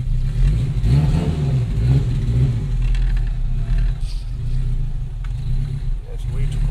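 A turbocharged, straight-piped 800 hp AWD 2002 Acura RSX Type-S pulls away on a cold day. Its loud, raspy engine note revs up close by while someone talks over it.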